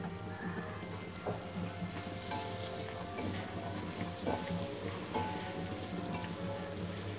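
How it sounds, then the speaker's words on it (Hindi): Vegetables stir-fried in a pan over a high flame give a continuous crackling sizzle with a low background hum, steady and fairly close, with occasional scrapes of stirring. "और इनको भी फ्राई कर देंगे स्टर फ्राई।"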